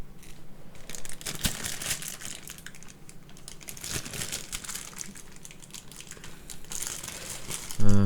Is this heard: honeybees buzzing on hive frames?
no